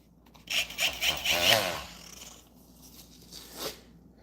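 A high-speed rotary tool at 25,000 RPM grinds close by in a few bursts, with a rising whine and rasping contact sound, then fades to quieter intermittent touches, with faint talk nearby.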